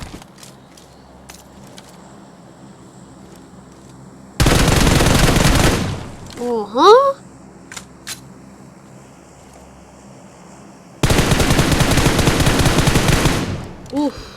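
Automatic gunfire sprayed in a video game, two long loud sustained bursts separated by a quiet gap, with a brief exclamation from a player between them.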